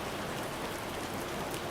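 Steady rain drums on the wide wooden eaves of an open-air onsen, a dense, even patter that holds without pause throughout.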